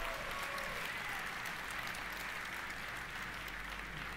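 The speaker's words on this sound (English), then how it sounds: "you got to clap at the old stuff too" Audience applause at an NVIDIA RTX launch event, a sustained, even roar of many people clapping in a large hall, heard at a distance and fairly faint but continuous.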